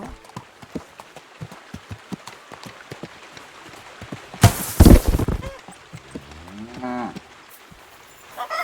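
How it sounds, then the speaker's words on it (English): Horse hooves clip-clop steadily on a path in the medieval game Kingdom Come: Deliverance 2, a regular close rhythm broken midway by a loud burst of other noise, with a lowing cow briefly audible near the end. "This horse wasn't cheap"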